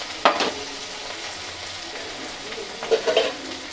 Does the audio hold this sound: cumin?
yes